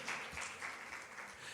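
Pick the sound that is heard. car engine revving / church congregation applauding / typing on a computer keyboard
church congregation applauding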